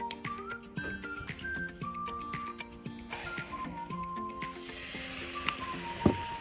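Hydrogen peroxide reacting with potassium permanganate in a glass flask gives a steady fizzing hiss that grows brighter toward the end, with a sharp tick near the close, no talk.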